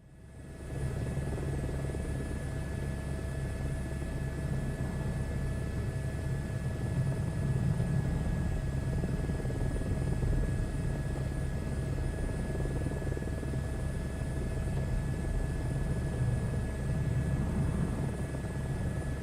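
A helicopter flies in the SKYDUDE flight sim game, its steady droning rotor and engine rumble loud and constant for nearly twenty seconds, with a faint whine above it and no talking.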